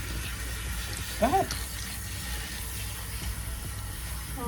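Water runs steadily from a salon rinse tap as protein treatment is rinsed out of hair, a constant close hiss with a brief spatter, while someone speaks briefly over it.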